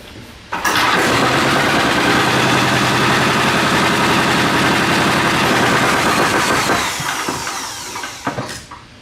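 A cheap 10HP diesel engine bought off Temu for a go kart cranks and fires, then runs loud and close with a steady, rough chugging for several seconds before winding down and stopping.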